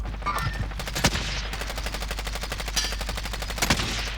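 Rapid automatic gunfire bursts from a Call of Duty: Warzone battle royale match at a stadium, sharp repeated shots in quick rhythm over a steady low game rumble, loud and close.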